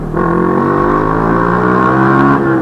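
A first-generation Yamaha R15 V3 motorcycle engine with the throttle opened, producing a loud, close, steady exhaust drone that holds its pitch for a couple of seconds before easing slightly, with no talking.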